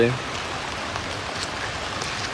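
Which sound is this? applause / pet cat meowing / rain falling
rain falling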